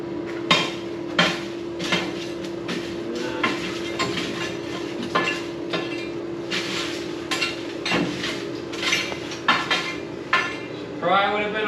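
Metal clanks and scraping knocks as wood is stirred inside an outdoor wood boiler in freezing temperatures, a series of sharp close hits and rattles over a steady low hum.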